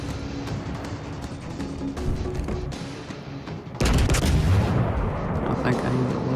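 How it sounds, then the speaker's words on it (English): Battleship main guns firing in the naval game World of Warships Legends, rumbling booms and rolling blasts building to a heavier salvo midway, with a voice talking over the gunfire. "Let's take another shot at him."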